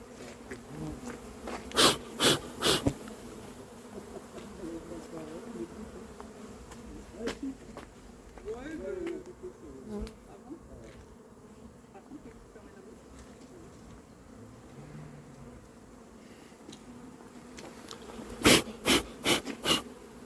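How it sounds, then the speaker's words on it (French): Honey bees buzz softly in a steady background drone while a swarm is being hived, with faint voices and a few sharp knocks at the start and end. "on a versé le paquet d'abeilles"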